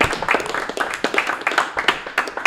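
Audience at a stand-up comedy show applauding, a dense run of close, sharp claps that keeps a steady level without pausing.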